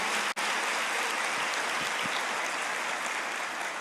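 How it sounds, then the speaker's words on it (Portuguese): A church congregation applauds during a Portuguese-language sermon, a dense, steady wash of clapping heard from within the room, briefly dropping out near the start before carrying on evenly. "Você pode aplaudir ao Senhor por isso?"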